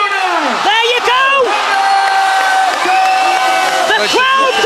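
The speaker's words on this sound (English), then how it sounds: "The crowd go wild here at It's Showtime!" A wildly cheering, whooping crowd at an It's Showtime kickboxing event roars continuously under a loud commentator's voice, swelling and breaking in bursts throughout.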